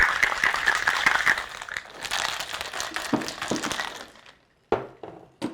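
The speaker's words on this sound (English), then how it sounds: "Just shake it up." Ice rattling hard inside a cocktail shaker as a brunch drink is shaken, a dense, rapid, rhythmic churning for about four seconds, followed by a few separate clunks.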